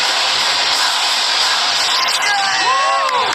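A video game crowd cheers and shouts in a steady, loud roar, with a few rising whoops near the end and no clear individual voice.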